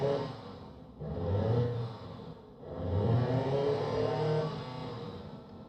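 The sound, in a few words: simulated engine revving through gear changes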